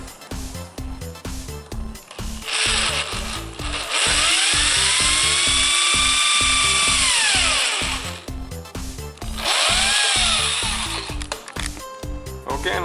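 A power drill bores through the hinge of an Audi glove compartment, two long sustained whining runs with a falling pitch at the end of each, between clattering handling noises. The drilling is loud and close.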